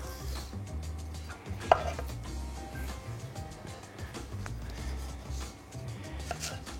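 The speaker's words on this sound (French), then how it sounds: "on va découper les tronçons de rhubarbe à la taille du plat" A knife chops rhubarb stalks into pieces on a board, a series of close, crisp cuts spaced irregularly, with one sharper knock against the surface.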